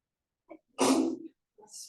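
One close, sharp sneeze with a quick intake of breath before it and a soft exhale after, in an otherwise quiet room.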